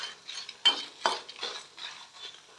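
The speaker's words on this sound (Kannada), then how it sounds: "ನೋಡಿ ಇದು ಇನ್ನೂ ಸ್ವಲ್ಪ ಫ್ರೈ ಆಗಬೇಕು." Red chillies, including Byadagi chillies, frying in oil for sambar, with several distinct scraping stirs of a spoon against the pan over a soft, steady sizzle, close and moderately quiet, no voices.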